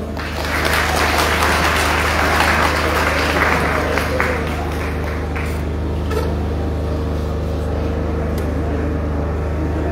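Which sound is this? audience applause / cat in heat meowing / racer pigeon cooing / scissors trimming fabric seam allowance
audience applause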